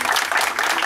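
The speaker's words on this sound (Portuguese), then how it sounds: "Uma salva de palmas pro Dias" Brief burst of clapping from a group at a military police retirement farewell, dense and steady for under a second.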